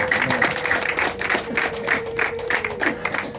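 An audience applauds at an event, a dense, steady wash of clapping lasting a few seconds with a faint tonal hum and scattered voices mixed in.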